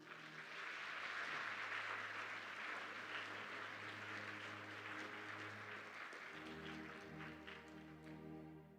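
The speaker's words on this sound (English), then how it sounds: "Please join me in a round of applause for our distinguished honor graduate" An audience at an Army AIT graduation ceremony at Fort Sill applauds an honor graduate, steady sustained clapping from a large crowd that holds for several seconds over a low droning hum, then tapers slightly.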